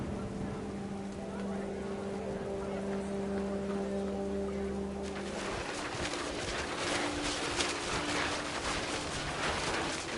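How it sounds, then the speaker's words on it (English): Steady rain hisses in What Remains of Edith Finch, starting as a softer patter with low tones and swelling into a heavy, dense downpour partway through. "The rain came down in buckets then"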